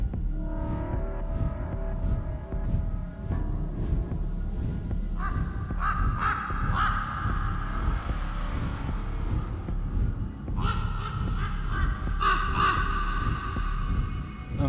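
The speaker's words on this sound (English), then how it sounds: "that sound effect did not sound like a bird. That sounded like someone impersonating a bird." A bird call effect in the VR horror game Rise of Insanity, harsh crow-like caws repeating in bursts over a low rumbling ambient drone, loud and close.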